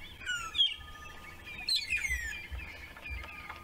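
Several birds chirp and call in quick, overlapping bursts at sunrise, close and clear, with trilling notes over a quiet outdoor background; magpie shrikes and yellow-billed hornbills nearby.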